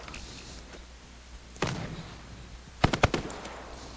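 Gunfire in the Call of Duty Black Ops 4 Blackout battle royale, a single thud followed by a quick cluster of sharp shots, moderately loud against quiet background hiss.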